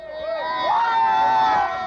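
At the 1995 Kentucky Derby, a crowd of men lets out a loud, sustained, wavering yell that swells and holds for about two seconds, close and raw.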